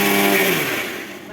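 Kitchen mixer grinder running at high speed with curd and water inside, a loud whirring drone that winds down and fades as the power cuts out.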